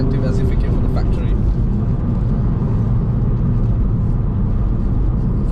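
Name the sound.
Volkswagen VR6 engine exhaust tone while accelerating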